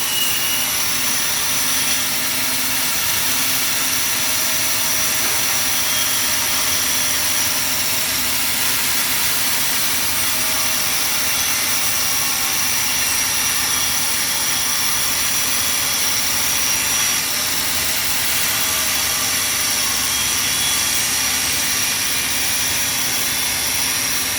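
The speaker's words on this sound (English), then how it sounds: "In this particular situation, we're grinding it out." A grinder works steadily on the back end of a weld, grinding it out with a continuous, even whining roar that holds for the whole stretch with no talking.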